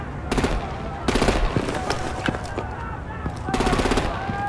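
Rapid automatic gunfire in Batman: Enemy Within, three loud sustained bursts separated by short pauses, with a voice and game sounds in between.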